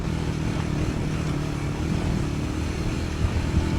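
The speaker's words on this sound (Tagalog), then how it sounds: "Sakay nga ng isang motorsiklo ay nagbiyahe na tayo" A motorcycle is ridden along a mountain road toward the drop-off point for Mount Agkir-Agkir in North Cotabato, its engine droning steadily and loudly throughout with wind rush and light rattles.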